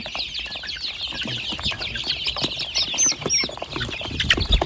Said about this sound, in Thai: ไก่กับรวมๆแล้วกับประมาณสองร้อยตัวนะพี่น้อง